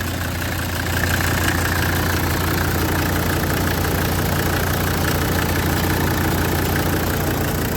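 A Mercedes W123 300D diesel that sat parked for twenty years idles close by, a steady, loud clattering rumble with an even knocking rhythm that holds for the whole stretch.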